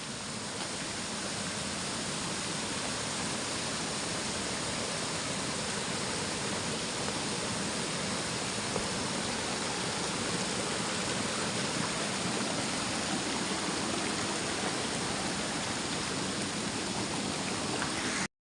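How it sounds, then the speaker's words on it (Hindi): A mountain stream, a nala in an Uttarakhand hill village, rushes in a dense, constant roar of flowing water, loud and unbroken throughout, with no voices. "ये तो यहाँ पे एक नाला, नदी, घटीगाड़"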